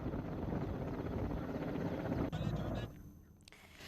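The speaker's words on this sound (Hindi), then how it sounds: "चॉपर से पानी छिड़का गया है" A helicopter hovers over a burning forest in Uttarakhand, dropping water on the blaze: a steady, fairly faint rotor drone with wind noise that drops away abruptly near the end.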